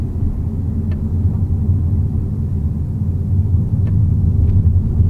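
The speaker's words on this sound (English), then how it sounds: "this is the car actually pulling itself to a stop on the regen" Skoda Octavia iV plug-in hybrid slowing to a stop under regenerative braking: a steady low road and drivetrain rumble with no engine revving, heard from inside the cabin, continuous and fairly loud throughout.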